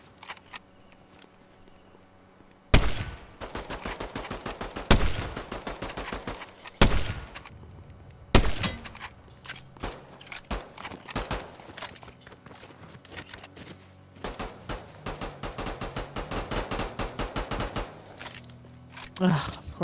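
Sniper and rifle fire in Fortnite: several sharp, loud single cracks early on, then long stretches of rapid repeated shots in bursts, with game noise underneath and a voice faintly present.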